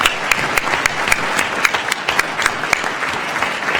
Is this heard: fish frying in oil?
no